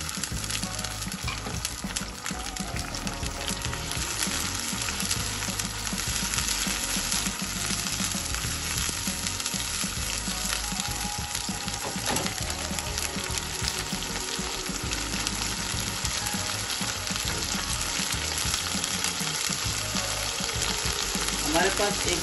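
Pureed medium onion with a pinch of salt sautés in a pan, a loud dense continuous sizzle and bubbling that runs unbroken for over twenty seconds, close by with faint background sound.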